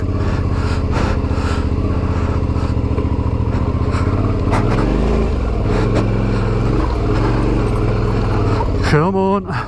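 Adventure motorcycle engine droning steadily while riding off-road through slippery mud, loud and close throughout, with a rider's voice talking over the engine and a brief revving surge near the end.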